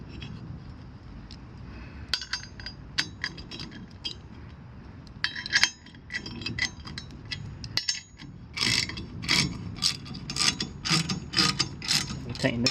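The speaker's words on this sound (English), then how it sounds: "I'm going to use a 15mm to tighten them up." Nuts on a U-bolt of a Riptide SL transport rack being tightened with a 15mm ratcheting wrench, giving quick clicking runs of the pawl and metallic clinks up close, growing denser toward the end.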